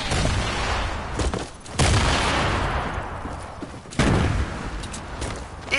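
Loud semi-automatic weapon fire from the Fortnite battle royale video game, with heavy booming shots and a sharp renewed blast partway through, mostly free of talk.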